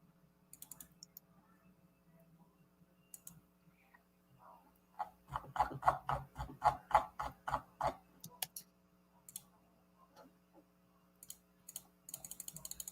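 A burst of rapid, evenly paced clicks through a PowerPoint document, fairly close, over a steady low electrical hum with faint scattered ticks before and after.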